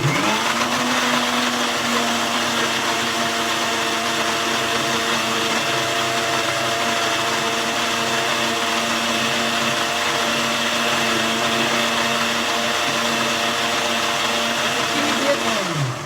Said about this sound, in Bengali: চিনিটা না গলা পর্যন্ত আমি একটু ব্লেন্ড করবো